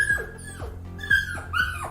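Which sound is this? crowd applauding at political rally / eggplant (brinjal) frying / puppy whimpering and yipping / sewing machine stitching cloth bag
puppy whimpering and yipping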